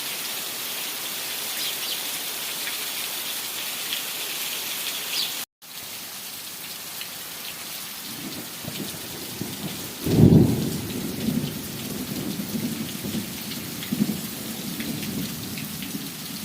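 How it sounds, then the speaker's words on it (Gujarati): Heavy rain roars steadily throughout, then a deep rumble of thunder rolls in midway and lingers under the downpour. "ગામ માથે તો બહુ વધારે વરસાદ છે"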